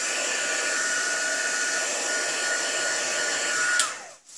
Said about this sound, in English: Because vellum's so nice and thin, it will heat set from the back.